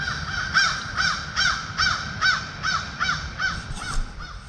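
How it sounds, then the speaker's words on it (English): Repeated crow caws in woods, about nine harsh calls in a steady rhythm, moderately loud over a low rumbling background. "There's plenty of crows sounding off"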